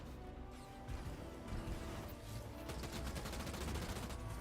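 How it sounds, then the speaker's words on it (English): Dense, continuous weapons fire from ground troops in the space strategy game Homeworld 2, a steady rattle of shots and crashes with rapid bursts thickening toward the end. "Receiving fire from ground troops"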